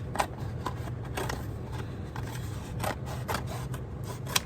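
Scissors snip through a cardboard cereal box in a run of crisp, close cuts at an uneven rhythm, with light paper rustling between strokes.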